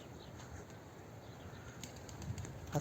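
Young pigeons, a crowded flock of well-feathered squabs including two smoky-coloured birds, flap and take off together; soft wingbeat flutters sit over a steady low outdoor background, with a slightly louder burst of flapping near the end.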